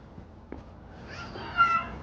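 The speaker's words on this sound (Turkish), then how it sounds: "Kavga eden kedilere rastladık." Cats fighting in a street in Kuzguncuk, Üsküdar, Istanbul, giving faint, drawn-out meows and a rising yowl against quiet background noise.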